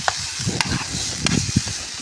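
Tomato tadka fries in a pan for a gucchi mushroom dish cooked outdoors in a garden, a steady close sizzle broken by a few scraping stirs of a spoon.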